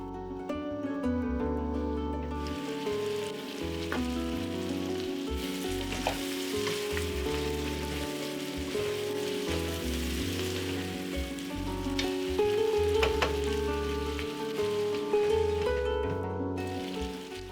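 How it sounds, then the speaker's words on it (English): Tomatoes and goat meat cooking in a covered pan give a steady, dense sizzle and crackle that runs evenly throughout, close by with a constant low background hum and no voices. "Cover this, cook for about 5 minutes to cook the tomatoes down."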